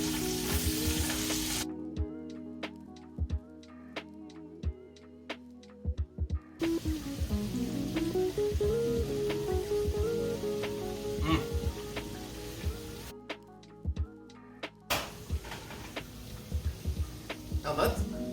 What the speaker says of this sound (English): in goes your peppers, in goes your onions. Saute this